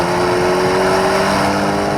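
Alpine A110S engine working hard through the gears on the Nordschleife in the rain, a steady loud drone with a sustained tonal whine and faint pitch changes, close and continuous with no talk.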